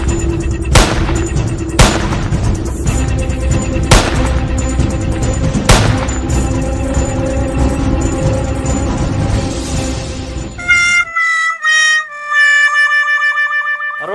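Several sharp, booming gunshot-like bursts ring out at a steady rhythm, loud and close, followed by a brief electronic, warbling effect; no one speaks.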